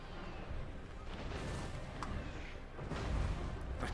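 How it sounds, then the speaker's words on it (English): Cannons fire during a Total War: Warhammer 2 battle against a dense wash of battlefield rumble, with several dull booms surfacing near the start, around the middle and loudest toward the end. "The cannons are firing"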